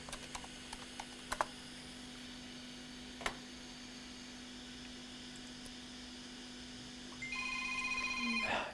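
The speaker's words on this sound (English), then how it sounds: "Another phone call." A telephone rings in a repair workshop near the end, a steady electronic tone starting quietly and building, after sparse clicks and keyboard taps over a low hum.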